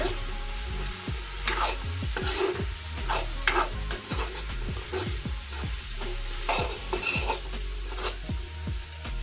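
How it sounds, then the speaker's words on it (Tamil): Chickpeas frying in a pan as chili powder is stirred through them, a steady low sizzle under repeated close scraping and knocking strokes of a spoon against the pan at an irregular pace, with no talk. "அந்த மிளகாயை மிளகாத்தூளை சேர்க்க போகிறோம் சேர்த்து அதையும் நல்ல வடிவாக கிளட்டி விட்டுட்டு"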